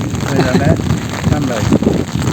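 Rain patters steadily on surfaces nearby while people talk over it, the shower continuous beneath the voices.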